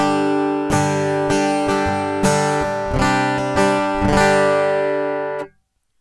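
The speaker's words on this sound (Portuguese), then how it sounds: "Esse é o som do violão" Acoustic guitar strummed dry through a plugin with the impulse response loader switched off, giving a bright, hard tone: several ringing strums with sharp attacks over about five seconds, alone, ending in a sudden cutoff.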